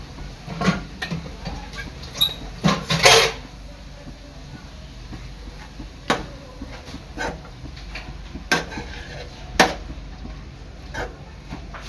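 A spoon stirs finely chopped fenugreek leaves with tender kardi in a pan. Irregular scraping knocks and taps recur throughout, clustered early and then more spaced out, with a voice faintly present in the background.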